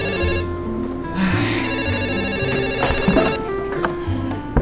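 A telephone rings with a steady, insistent electronic ringtone pattern, fairly loud and close, with no talking over it.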